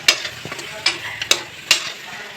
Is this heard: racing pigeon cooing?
no